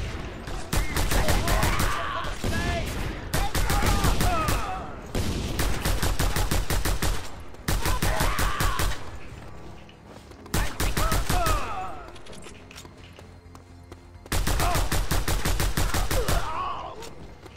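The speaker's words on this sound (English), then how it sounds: "I'm gonna keep my machine gun for now." Loud bursts of machine gun fire from the Just Cause 2 video game, coming in repeated sustained volleys with short breaks between them, dense and close.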